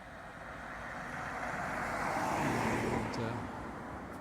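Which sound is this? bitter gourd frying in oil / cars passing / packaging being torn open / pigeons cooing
cars passing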